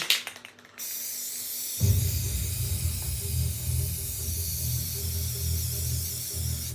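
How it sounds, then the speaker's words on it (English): After a few light taps, a can of black spray paint sprays into a bin in one long, steady hiss, close and continuous until the end. "I'm going to spray some black into my bin."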